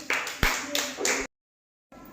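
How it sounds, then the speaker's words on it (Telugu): A group of young schoolchildren in a classroom claps together for a classmate, a short burst of quick patters that stops abruptly. "క్లాప్స్ కొట్టండి హారికకి."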